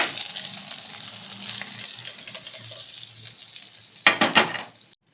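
Coriander seeds and dried red chillies crackle steadily while tempering in hot oil for dahi bhindi, a close, even sizzle that ends with a louder burst of spitting and hissing before cutting off.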